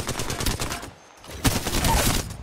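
Gunfire in the battle royale game Apex Legends comes in dense rapid volleys, loud and close, then drops away briefly before the shooting resumes.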